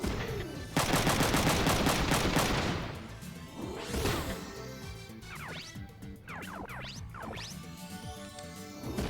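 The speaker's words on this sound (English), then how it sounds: "I'll shoot at the punch bomb." Gunfire aimed at a punch bomb in the video game Front Mission 3: a sustained burst of loud rapid shots for about two seconds, then a blast, followed by whooshing, swishing effects and scattered impacts.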